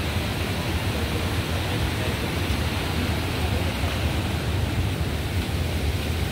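A river in Arayat, Pampanga rushes and churns as a steady, loud wash of flowing water that fills the whole stretch without a break.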